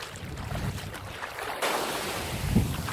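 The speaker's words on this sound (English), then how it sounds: "In today's video I want to show the ocean. This is the ocean of Thailand." Ocean surf washing onto a beach in Thailand, a steady broadband wash of breaking waves with wind buffeting the microphone, rising slightly partway through and staying continuous throughout with no voices.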